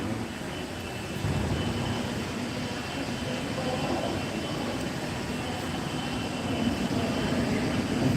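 A New York subway train rumbles through a station with a steady, broad roar that holds for several seconds at a moderate distance, with no one speaking.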